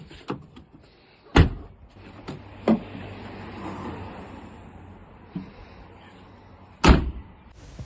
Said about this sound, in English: I then opened and closed all the doors to ensure that they were functioning without any sort of obstruction.